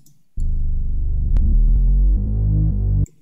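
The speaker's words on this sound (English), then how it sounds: "you know this preset. Growler Moog bass. It's a hood classic preset. It's just a good bass sound" A Growler Moog bass preset from Omnisphere plays a deep, buzzy synth line following the root notes, with steady throbbing sustained tones changing pitch a few times. Loud, close and alone, stopping abruptly at the end.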